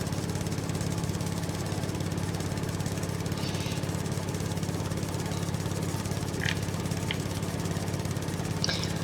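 A lawn mower engine in a farming video game drones in a steady, loud mid-pitched hum throughout, with a few faint clicks over the top.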